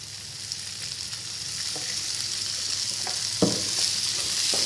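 Shallots frying in hot oil, a steady bright hiss of sizzling that builds gradually, with a few soft spoon clicks near the end, close and unbroken with no talk.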